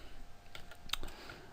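Fingers type on a computer keyboard in a quiet room, giving a quick, irregular run of faint clicks and key taps with one sharper keystroke near the middle.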